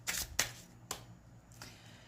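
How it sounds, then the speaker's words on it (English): Cards are shuffled in a few quick, crisp riffles, close up, with short pauses between bursts and no talking. "Okay, one more shuffle"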